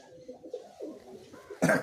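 A Madras pigeon coos softly in low, rounded notes a few times, ending in a brief louder burst of sound nearby.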